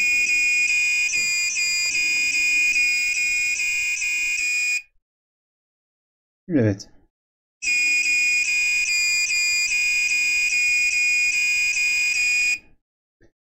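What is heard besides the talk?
melody-selectable doorbell playing a melody through a buzzer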